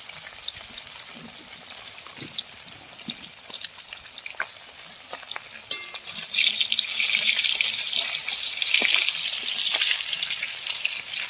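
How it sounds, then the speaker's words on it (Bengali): Fish fries in a pan of oil with a loud, continuous sizzling hiss dotted with pops and crackles, growing more intense in the second half. "মাছগুলো আমি একবারে ভাজবো না, দুবার হবে।"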